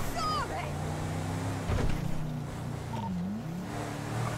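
A truck engine in a game hums low and steady nearby while people talk over it. The rumble swells briefly partway through and then settles back.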